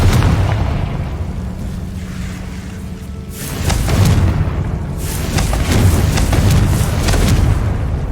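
A Confringo fire spell blasts in Hogwarts Legacy: steady rumbling game ambience gives way to a heavy booming burst, followed by further loud crackling impacts and a sustained roar.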